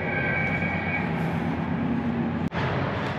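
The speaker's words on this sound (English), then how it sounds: "This train is substantially quieter than the last one" A train rumbles past in Yoho National Park with a steady, broad mechanical roar and hum, one sharp click near the end, no voices.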